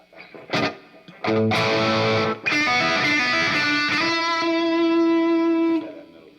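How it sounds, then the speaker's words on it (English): Electric guitar through a Marshall Plexi amp with slapback delay, a few short plucked notes followed by loud overdriven chords and a long sustained ringing note that fades out. "Here it is with a little bit of slap back."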